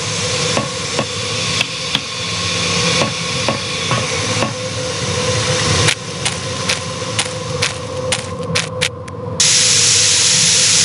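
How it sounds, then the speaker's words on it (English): In the PC adventure game Murder on the Orient Express, steam escapes from a pipe as a continuous loud hiss with repeated sharp clicks and knocks, swelling into a brighter, stronger rush near the end. "This must be where the steam is escaping."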